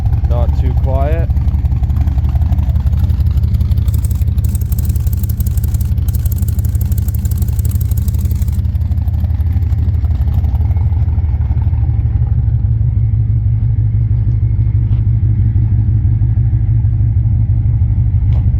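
Motorcycle engine running steadily after start-up in a home build, a loud, close, throbbing idle with a low rumble throughout, and a person talking over it.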